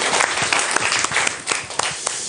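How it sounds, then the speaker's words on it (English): Dense audience applause for participants at a cybersecurity talk session, a full crowd clapping steadily and loudly throughout with no gaps. "A round of applause for all of the participants"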